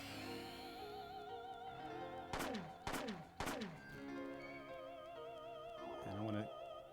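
Gunshots in the video game Parasite Eve: three sharp, evenly spaced shots ring out over steady electronic game music, followed a few seconds later by a rougher burst.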